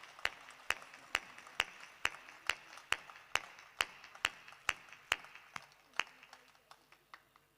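An audience at a Hindi poetry recital claps in a steady, sparse rhythm, about a dozen sharp, distinct claps spaced evenly over several seconds in a quiet hall.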